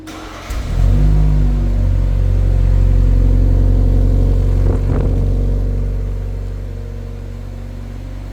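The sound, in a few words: SUV engine running after remote start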